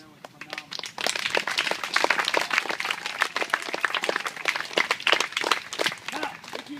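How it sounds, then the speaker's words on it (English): An audience applauds for several seconds, a dense patter of many hands clapping in a room, rising quickly and staying steady, with voices underneath. "So those 9 people, I think, deserve a little applause"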